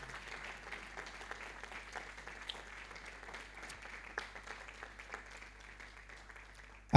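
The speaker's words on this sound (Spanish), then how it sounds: "Yo que usted le daría un aplauso al Señor." A church congregation applauding, a fairly faint, sustained patter of many hands clapping that carries on steadily for several seconds at some distance.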